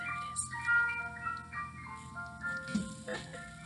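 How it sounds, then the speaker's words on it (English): An ice cream truck plays its tinkling melody while passing by, the chiming tune clear but moderately distant, with faint traffic rumble underneath and no talk. "There's an ice cream truck going by."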